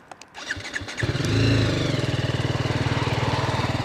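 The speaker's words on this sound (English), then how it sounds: "So that's the exhaust sound there at the back" A BMW G310R motorcycle engine idles close by, its exhaust thumping in a steady rapid pulse after a few clicks and a brief start-up surge.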